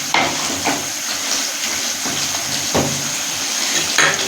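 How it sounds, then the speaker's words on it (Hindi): Mutton frying in a karahi with ginger and green chillies, a loud wet sizzle with scattered scrapes and knocks as the meat is stirred and turned. "गोश्त को हमने अच्छी तरह से बीच में भुनाई करना है।"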